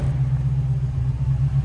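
A 1971 Plymouth Barracuda with a 6.1 Hemi idles with a deep, steady rumble, close and loud, its low exhaust pulsing evenly with no talking.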